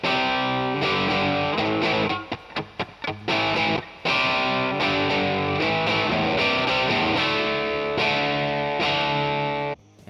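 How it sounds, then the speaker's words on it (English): Electric guitar through a Marshall amp emulation plays loud, distorted chords and riffs with brief choppy stops partway through, then sustained strumming until a final cutoff. "Here's the sound of a Marshall emulation."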